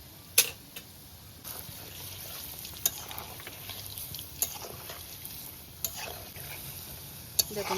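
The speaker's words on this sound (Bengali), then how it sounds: "যখন বড়াগুলো ভাজবো তখন কম আঁচে দিয়ে আমার তেলটা গরম হয়ে গেছে" Palm fruit fritters (taler bora) frying in hot oil in a wok over low heat: a faint, steady sizzle with occasional sharp pops and clinks of a utensil, quiet and close.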